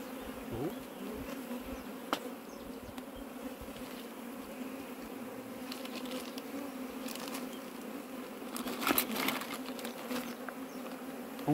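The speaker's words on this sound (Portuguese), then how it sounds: "vendo que as abelhas estão entrando um pouco lá" Honeybees buzz steadily around a wooden log hive outdoors, a dense continuous hum with a few louder passes close by.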